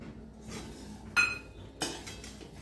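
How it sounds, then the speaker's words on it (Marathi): A spoon stirs sugar into ghee-roasted semolina in a pan over low heat, making sweet sheera. Soft scraping is broken by two sharp metallic clinks against the pan, all fairly quiet. "थोडंसं हलवून घ्यायचं म्हणजे साखर त्यात मिक्स होते आणि मेल्ट पण होते"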